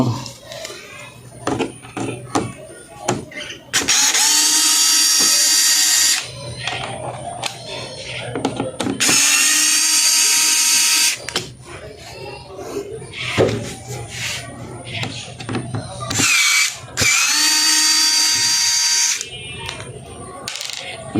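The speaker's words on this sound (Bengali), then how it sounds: "এই নাটগুলো খুলে নিব।" A power drill unscrews nuts from the back panel of an LED TV, running in several loud whirring bursts of a second or two each, with clicks, handling noises and someone talking between them.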